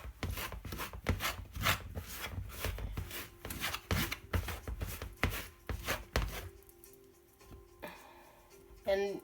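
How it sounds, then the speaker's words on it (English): A pastry blender works butter into flour for a homemade pumpkin pie crust, giving repeated soft crunching, scraping strokes in an irregular rhythm, close by. The strokes stop near the end, and a few quieter knocks and a brief voice follow. "I'm going to take my pastry blender"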